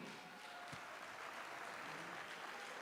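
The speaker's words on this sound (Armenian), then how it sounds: "ամենաբարձր ծափերով ողջունենք այն մարդուն" Guests at an Armenian wedding celebration clap in a steady, dense round of applause, faint and continuous throughout.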